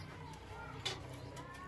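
A racing pigeon from a breeding pair with two chicks coos softly. The low, quiet cooing carries under faint background noise.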